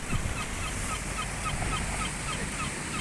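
Seagulls call on the seafront at Gijón, Asturias, in light drizzle: several faint, scattered cries sit over a steady, loud wash of sea and wind noise, with no talking.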